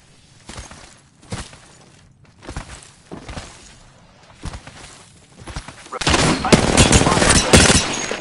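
Video game gunfire: a handful of separate shots fired at a steady rhythm, then a loud, dense automatic burst that crackles continuously near the end.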